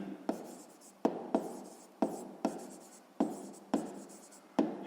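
Handwriting in a notebook during a sixth-grade maths exercise: a quiet, close scratching of pen on paper, punctuated by regular sharp taps roughly every half second to second.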